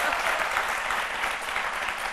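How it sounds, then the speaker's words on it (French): Studio audience on a French daytime TV talk show breaks into steady, dense applause, a continuous wash of many hands clapping throughout with no voices over it. "Merci, on applaudit très fort"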